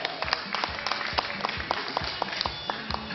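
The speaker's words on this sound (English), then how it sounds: "A hand of applause for her." An audience gives a hand of applause for Mama Fleming, with distinct, fairly sparse claps in an uneven rhythm, heard at moderate distance and somewhat faint.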